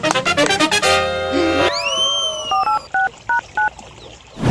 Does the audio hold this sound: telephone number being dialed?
yes